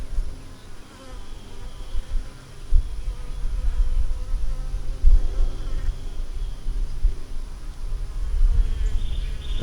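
Honey bees hum steadily around an open hive frame during a hive inspection, a dense close buzz that swells and fades with occasional bumps and handling noises, and no one speaks.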